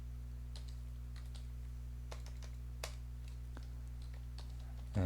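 Typing on a computer keyboard during HTML and CSS coding, a sparse run of light, close key clicks over a steady electrical hum, ending in a slightly louder clack.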